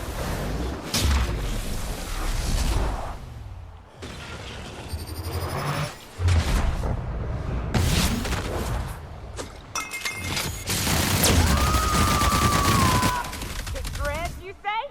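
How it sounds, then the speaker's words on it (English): Rapid gunfire and bursts in The Outer Worlds, loud and dense through the whole stretch, mixed with game sound effects and a character voice talking over the shooting. "Opening fire!"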